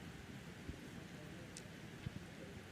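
Rain falls at an outdoor recurve archery team competition, a steady, faint wash of hiss with a couple of soft thuds breaking through.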